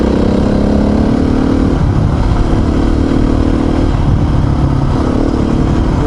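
A dirt bike engine drones steadily and loudly throughout while the bike is ridden offroad through rutted terrain between Sydney and Gosford, holding a continuous rough mid-pitched note with small shifts in revs.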